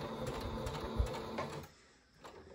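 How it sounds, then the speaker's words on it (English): A sewing machine stitches elastic into a surgical mask with a fast, steady mechanical whir and rattle, up close, and stops partway through, leaving a quiet room. "you're going to sew that elastic into place"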